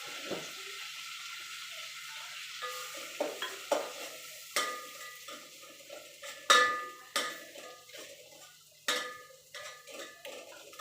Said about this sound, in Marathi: मस्त अशी मटणाला फोडणी दिली.